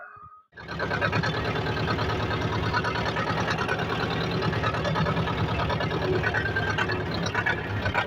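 A T-25 tractor engine starts and runs before potato digging with a homemade digger, settling into a loud, steady, throbbing diesel idle that fills the clip after a short quiet moment at the start.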